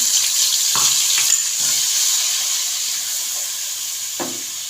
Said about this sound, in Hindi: अब इसके हम जो हमने अभी मसालों का ये पेस्ट बनाया था ये हम इसके अंदर डाल देंगे